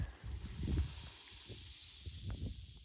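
A rattlesnake on the Pacific Crest Trail gives a dry, sustained buzzing rattle that hisses steadily for a few seconds, fairly close, with faint low rumbles underneath and no talking.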